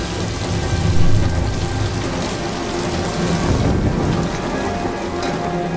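Steady, heavy rain pours down with a broad rumble of thunder rolling underneath, loud and continuous throughout.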